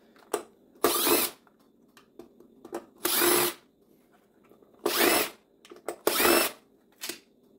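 A power drill runs in short, loud, separate bursts while backing screws out of a 36v hoverboard during teardown, with quiet handling clicks between the bursts.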